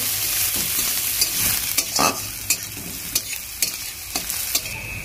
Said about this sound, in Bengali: এখন এই যে পেঁয়াজকে হালকা করে তেলে ভেজে নেওয়া হচ্ছে।